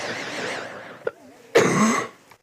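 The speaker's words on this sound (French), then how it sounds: "Excusez-moi, je tousse" One cough, then a short throat-clearing burst, close and fairly loud, from a person indoors.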